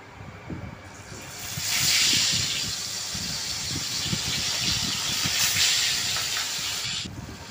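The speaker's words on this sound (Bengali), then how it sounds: "এখন একটা একটা করে মাছ ভাজা বসিয়ে দিই" Pieces of bhola fish frying in hot oil in a frying pan, a loud, close, continuous hissing sizzle that swells after the first second and holds steady with faint crackles throughout.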